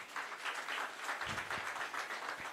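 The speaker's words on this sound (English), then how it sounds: "I request the audience to kindly applaud." Audience at a research conference applauding, a brief burst of many hands clapping at moderate volume, with a few low thuds and faint voices underneath.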